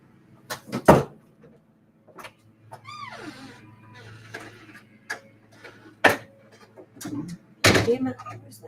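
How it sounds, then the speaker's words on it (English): An indoor door is pushed shut amid several sharp knocks and thumps, with the heaviest impacts arriving near the end, while a person talks intermittently between the bangs. "I'm gonna shut that door."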